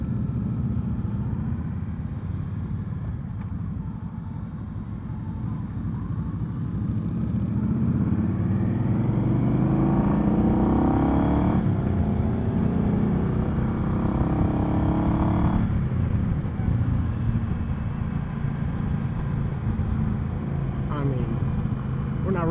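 A 2020 Indian Scout Sixty motorcycle on a demo-day test ride in Fredericksburg, Virginia, its engine rumbling steadily under loud wind rush and swelling as it accelerates midway through.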